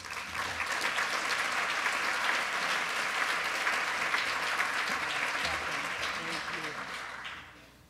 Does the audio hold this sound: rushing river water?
no